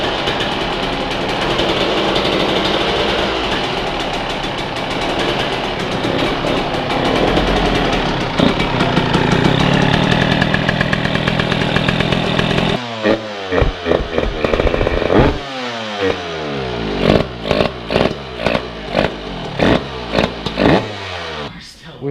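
A Yamaha YZ125 two-stroke motorcycle, its carburetor freshly rebuilt, starts and runs loud and close, with a steady buzzing idle followed by a string of sharp throttle blips that rev up and fall away.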